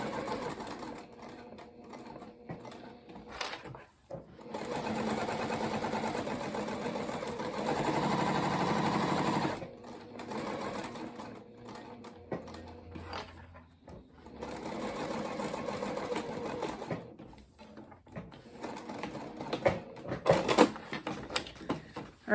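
A sewing machine stitches around the edges of cotton reusable napkins, its motor whirring in steady bursts with short pauses between runs, close and fairly loud with no talk.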